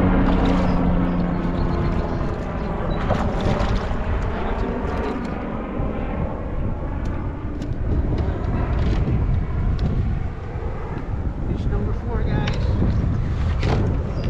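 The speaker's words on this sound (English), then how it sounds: "Gotten a lot windy." Strong wind buffeting the microphone in a constant low roar outdoors at a bass fishing tournament, loud and continuous throughout.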